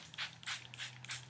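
Four quick hissing sprays of hair vitamins from a pump bottle come in a rapid, even rhythm, close by and fairly soft.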